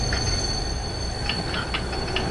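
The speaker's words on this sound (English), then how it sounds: "I thought you just wait for the train to stop" A train rolls past in a PS4 game, a loud, steady rumble of rail wheels with faint metallic squeals and clicks and no voices.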